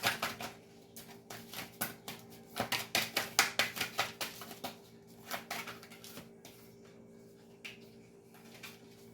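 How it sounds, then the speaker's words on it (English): Rapid riffling bursts of cards being shuffled up close, a dense run of crisp flutters that thins into a few scattered taps. "Some more shuffles and I'll pull from the top."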